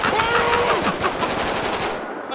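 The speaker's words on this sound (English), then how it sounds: "Oh, I hear shotgun." Rapid gunfire in the video game FivePD, a dense burst of repeated shots that sounds more like automatic fire than a shotgun, loud and continuous for about two seconds before cutting off.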